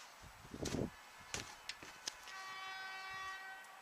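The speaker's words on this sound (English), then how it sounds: "Who's honking?" Outside during a blizzard, a vehicle horn sounds as a steady sustained tone in the background after a few scrapes and knocks, fairly faint and alone.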